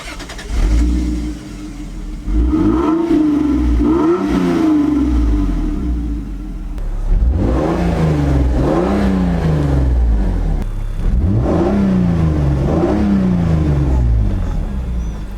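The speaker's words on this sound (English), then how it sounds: "hear a cold start up on a non-turbo automatic Supra" A non-turbo automatic Toyota Supra engine cranks from cold and catches, then revs up and down repeatedly in a few strong surges before settling to a rough idle, loud and close.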